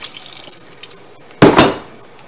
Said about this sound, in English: Put some water at the bottom of this.